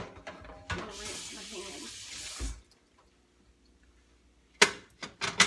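A kitchen faucet runs for a couple of seconds as a hand is rinsed under it while cooking crock pot sweet and sour pork, then cuts off, leaving near silence before a few louder knocks.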